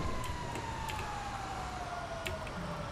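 A fire truck siren in the GTA 5 video game wails as a single steady descending tone under engine and road noise, fairly faint and continuous.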